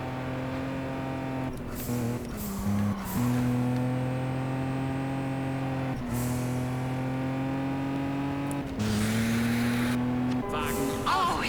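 Race car engine in the video game Juiced 2 revving hard under boost, its tone climbing through several gear-like rises with brief breaks between, loud and close and continuous for the whole stretch.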